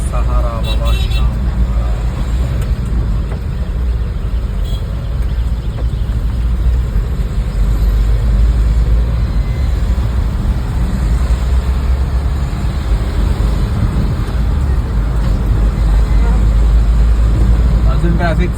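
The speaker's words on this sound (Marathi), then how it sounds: "अजून ट्रॅफिक चालूच आहे." Steady dense road traffic in a jam on Thane's Ghodbunder Road, a continuous low rumble of cars, buses and trucks idling and creeping nearby, with someone talking throughout.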